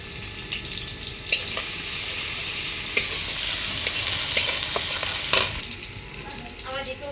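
Chopped onion fries in oil with a loud, continuous hissing sizzle and a few sharp spatula knocks against the pan, the hiss easing noticeably near the end.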